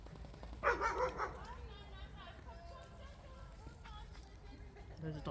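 A dog barks a few times early on, fairly close, then outdoor ambience continues with faint rustling and low background noise.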